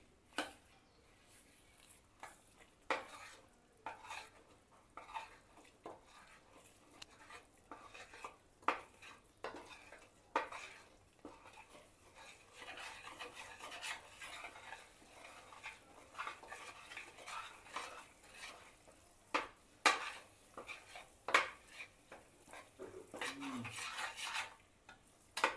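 A spoon scrapes and stirs a thick sweet mixture of fresh grated coconut in a pan, with steady soft scraping and clinks throughout, fairly quiet and close, no talking.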